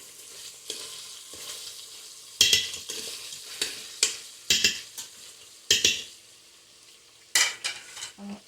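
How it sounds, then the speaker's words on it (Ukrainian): Lamb sizzles in a hot multicooker pot while a spoon stirs it with spices and mustard in repeated scraping, clattering strokes, close up and without talk. "і перемішуємо зі спеціями"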